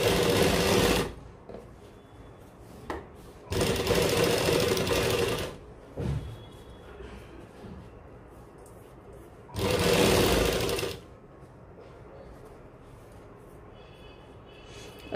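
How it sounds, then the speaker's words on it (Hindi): A sewing machine runs a rough tacking seam on a plain-fabric kurta in three separate bursts of fast, whirring stitching, each one to two seconds long and loud and close, with quiet handling of the cloth in the pauses. "अब ऊपर एक रफ सिलाई हम इस तरह लगा देंगे"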